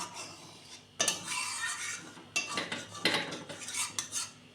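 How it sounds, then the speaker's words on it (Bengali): Milk and cream being stirred in a pot for rasmalai, with a utensil scraping and clinking against the metal in bursts of fairly close, steady stirring and no talking. "এভাবে নেড়ে নেড়ে এই যে সরগুলো, এগুলোকে দুধের সঙ্গে মিশিয়ে দিতে হবে"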